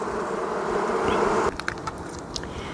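Honeybees buzz on a hive frame, a dense, steady droning hum up close that suddenly drops away midway, leaving softer scattered buzzing and faint clicks.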